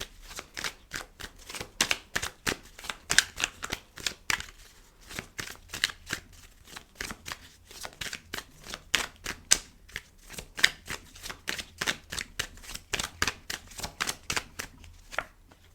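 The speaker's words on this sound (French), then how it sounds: "Je vais vous rajouter une carte sur la maison" Tarot cards being shuffled by hand: a steady series of crisp riffling flutters and taps, close and fairly quiet, repeating throughout with no talk.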